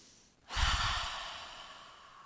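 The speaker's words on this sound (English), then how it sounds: "Inhale nose, exhale. Inhale. One more. Inhale." A deep exhale during a guided breathing exercise: a single long breath out rushing in at about half a second, then fading gradually, close and without talk.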